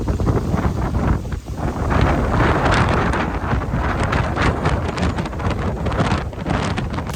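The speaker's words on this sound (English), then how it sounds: "I'm going to let you hear how crazy windy the beach was" Strong beach wind roars loudly and continuously into the microphone at Castaway Cay or Lighthouse Point, a dense rushing blast with gusty surges and no voices.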